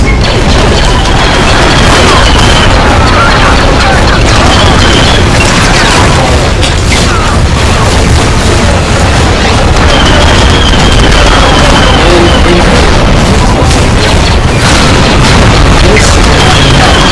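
Grenade launcher rounds explode in the video game Star Wars Battlefront 2, with loud, dense booms and crashes layered over constant battle noise throughout, and a player's voice is heard talking underneath.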